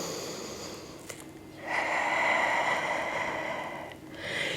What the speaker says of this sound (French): 2 grandes respirations